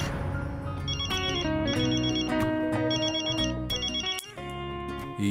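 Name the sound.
telephone ringing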